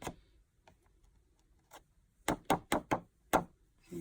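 A handmade birthday card is tapped against a surface to knock off loose stragglers, giving a quick cluster of five sharp, close knocks after a few fainter taps, then quiet.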